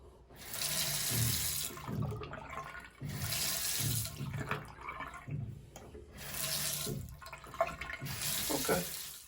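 Cold water runs from a household faucet in a home with banging pipes, a loud steady rushing stream that swells and cuts off in repeated bursts, with brief pauses between.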